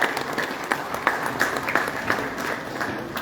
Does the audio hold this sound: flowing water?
no